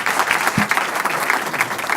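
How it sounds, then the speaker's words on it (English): A room of attendees at a water-industry pitch session applauds the innovators, a loud, steady roar of many hands clapping that stays dense and even from start to finish. "can we get a round of applause for the innovators for their time and their presentations today?"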